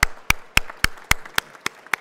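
An audience at a panel discussion claps, with eight sharp, evenly spaced claps of similar loudness heard on their own and close to the microphone.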